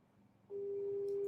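Outgoing phone call ringing unanswered, a steady electronic tone that starts abruptly and holds, clear and close over faint line hiss.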